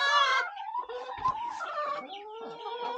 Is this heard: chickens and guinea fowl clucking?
yes